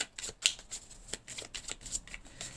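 Tarot cards cut and shuffled in the hands at close range, a string of crisp riffling snaps and soft slaps in an uneven rhythm, with no voices.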